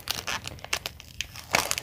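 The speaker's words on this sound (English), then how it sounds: "So we'll start pulling the tape" Tape pulled off a silicone mold for mini checkers, a string of short crinkly tearing and ripping bursts at close range, uneven in rhythm.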